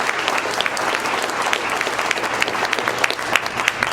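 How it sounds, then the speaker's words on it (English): A room full of people clapping loudly for the morning's speakers at an Idaho Department of Labor event, steady crowded applause across the whole stretch, no voices on top. "if we could, do another round of applause for all of our speakers this morning"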